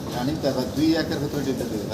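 Fancy pigeons, including Andalusian-coloured birds, coo at a seller's loft: low, throaty, warbling calls that overlap continuously, close and fairly loud across the short stretch.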